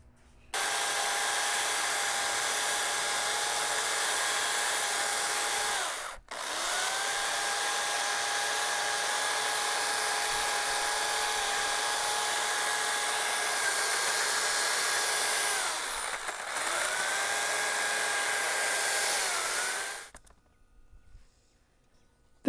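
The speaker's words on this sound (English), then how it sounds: "This log will be perfectly stable on the bandsaw." A bandsaw cuts a log into bowl blanks with a loud, steady, humming whine that runs for long stretches. It breaks off briefly twice, then winds down and falls silent at the end. No one speaks.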